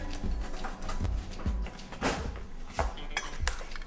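A metal spoon is picked up in a kitchen, giving a few close clinks and knocks of cutlery against dishes, with light handling noise between them.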